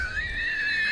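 A horse in the Crimson Desert video game gives a short, loud, high whinny with a wavering tone when the mount is summoned, heard alone.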